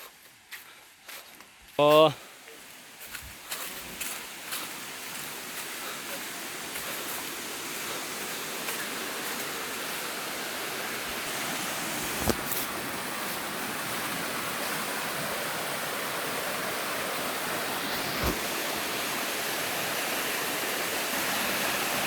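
Steady broadband rush of a waterfall fills the scene, with a brief voice and a few footsteps or knocks near the start and occasional clicks.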